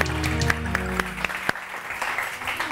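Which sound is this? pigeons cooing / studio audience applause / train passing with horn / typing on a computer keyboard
studio audience applause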